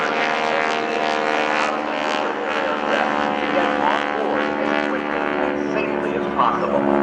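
GEICO Skytypers vintage propeller planes fly in formation at an air show, a loud, steady droning roar of several engines overhead. A voice talks over the engine noise throughout.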